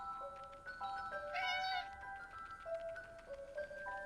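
Cat meowing in the video game 11-11: Memories Retold, a series of clear, close meows with a brighter, longer cry in the middle, heard alone without speech.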